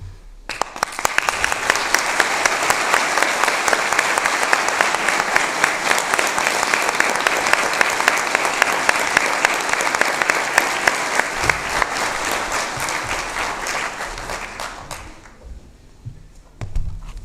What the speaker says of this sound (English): Graduates, please turn around and join us in a round of applause for those who have made this day possible for you.